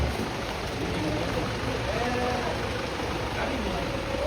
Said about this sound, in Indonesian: hujan sangat deras ini dan tidak tak kunjung henti